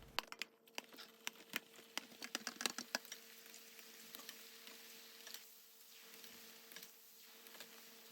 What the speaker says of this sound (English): I'm gonna fry the rest.